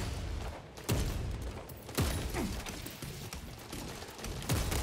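Gunfire in the video game Warhammer 40k: Space Marine 2 on veteran difficulty cracks in repeated sharp bursts, scattered irregularly over a busy, noisy battle background.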